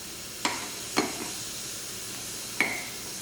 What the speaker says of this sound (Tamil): பாருங்கள், நல்லா ரசம் வந்து நல்லா நுரைச்சி வர ஆரம்பிச்சிருச்சு.